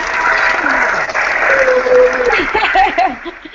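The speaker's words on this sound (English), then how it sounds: "The applause, I love it." Applause rises from an audience at a talk on money and attraction, a broad wash of clapping with scattered chuckles and cheerful voices over it.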